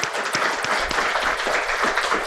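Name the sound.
audience applause for a speaker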